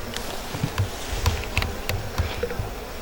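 Italian honeybees in a managed hive with a honey super, a steady low buzzing drone with brief passing bee flybys, close and moderate in level, no voices.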